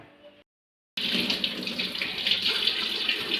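Tap water gushing steadily into a sink while corn cobs are washed, a close, continuous splashing rush that starts after a brief silence.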